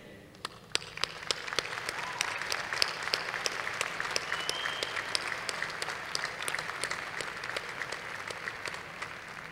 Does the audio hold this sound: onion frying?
no